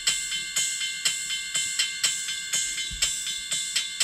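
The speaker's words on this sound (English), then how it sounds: "Ride cymbal's got that very metallic sound." A ride cymbal in a Soundtrap drum beat rings with a sustained, shimmering metallic wash, struck in a steady pulse while kick and snare hits punctuate underneath.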